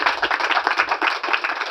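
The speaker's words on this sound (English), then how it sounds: "let's give a warm round of applause for Steve Brower." Crowd applause at a dedication event for the new Nady Prairie Park in Fairfield, Iowa: dense, steady clapping from many people at close range, loud and continuous throughout without a break.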